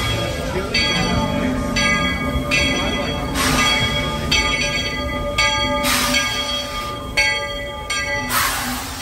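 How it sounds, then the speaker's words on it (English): A bell clangs repeatedly in a steady rhythm over a constant rumbling, hissing background as a Walt Disney World Railroad train idles at a station. "Thanks for joining me today as we board the Walt Disney World Railroad."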